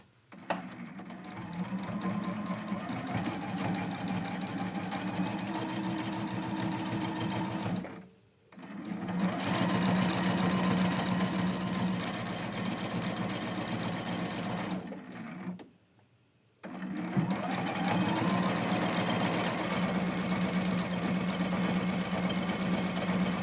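A sewing machine stitches a quilt block in long steady runs of fast mechanical whirring and needle chatter. It stops abruptly twice for a second or so, then resumes, close and even in level, with no voices.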